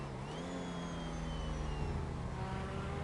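A car in GTA Online drives with its engine holding a steady, droning hum and rising whine, close and continuous with no voices.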